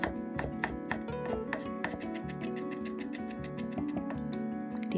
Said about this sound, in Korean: 역시 잘게 다져줍니다.